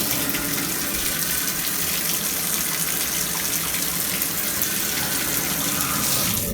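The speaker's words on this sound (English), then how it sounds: "In the meantime, I can fill the tub." Water running from a Moen faucet into a bathtub, a loud, steady, hissing gush that fills the whole clip without pause or talk.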